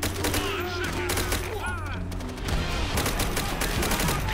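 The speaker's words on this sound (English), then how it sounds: "why are they shooting that way?" Rapid bursts of rifle and machine-gun fire in Call of Duty: World at War, dense overlapping shots with battlefield voices, loud and continuous.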